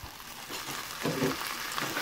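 Tomato pieces with chili powder and a little turmeric frying in a pan, a steady close sizzle that swells briefly as the pieces hit the oil, with no voices.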